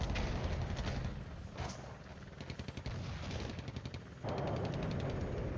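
Artillery bombardment in the Flashpoint Campaigns Cold War video game: a dense, continuous barrage of rapid crackling shots and rumbling impacts, loud throughout with a brief lull before intensifying again.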